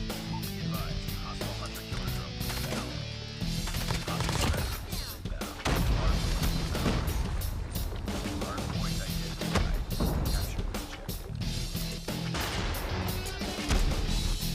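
RAM-7 rifle gunfire in the Call of Duty Mobile video game rattles in rapid, dense bursts, with sharp repeated shots filling most of the stretch and brief gaps between volleys.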